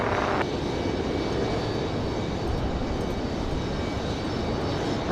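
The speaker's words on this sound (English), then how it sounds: "Got our A220 up next. 5009, runway heading current departure." An Airbus A220 jet departing Raleigh-Durham International Airport on runway heading gives a steady, loud, broadband engine roar with no pauses and no talk.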